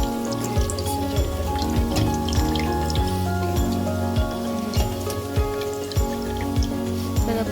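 Tamarind is squeezed and dissolved in water by hand, giving repeated wet squelches and sloshes in a loose, regular rhythm, close and clear with no voices.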